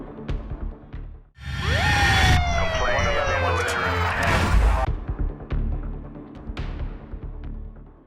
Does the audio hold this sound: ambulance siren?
yes